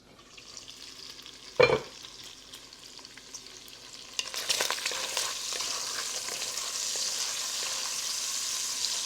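Thick-sliced bacon, eight slices, frying in a pan, a soft sizzle that grows louder and denser after a sharp clatter and a few stirring scrapes, then crackles steadily up close.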